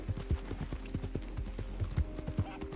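Horse hooves clip-clop in the video game Red Dead Redemption 2, a steady, close, rhythmic trot of repeated thudding footfalls with no talking.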